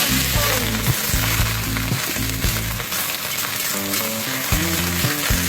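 Leaf lettuce hits hot oil with fried garlic in a wok and crackles in a loud, steady sizzle, with brief dips as it is stirred and tossed.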